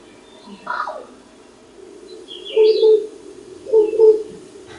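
Crows, ravens and blue jays give a sampling of varied calls: a brief rasping note, then two pairs of mellow, tonal, bell-like notes, moderately close with no talking over them.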